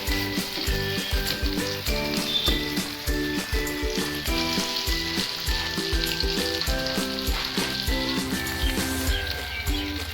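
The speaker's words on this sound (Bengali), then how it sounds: "মোটামুটি আমাদের ভাজা হয়ে গেছে" Chicken curry masala with potato frying in a pan, a continuous close sizzle with crackles and occasional stirring scrapes, mixed with steady background music and no speech.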